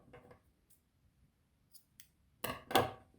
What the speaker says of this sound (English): And then we cut the yarn off.